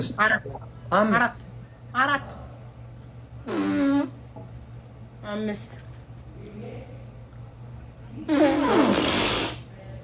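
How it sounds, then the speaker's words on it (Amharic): Several loud, rasping snore-like bursts, two of them long and rough, among shorter throaty noises over a low steady hum. "ይሄ ማንኮራፋት ነው።"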